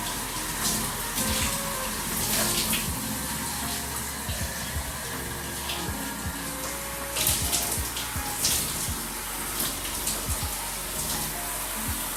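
Water runs steadily while hair is rinsed, a continuous close splashing rush with small bursts and drips throughout, at moderate level, with no talking.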